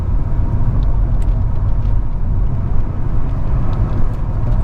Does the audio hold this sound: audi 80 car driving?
yes